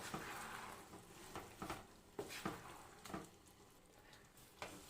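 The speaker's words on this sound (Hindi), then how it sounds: "चिकन लॉलीपॉप्स को अपन अच्छे से मिक्स कर लिए" Chicken lollipops are stirred and fried in sauce, giving a faint steady sizzle broken by repeated scraping stirs at an irregular pace, with no talking.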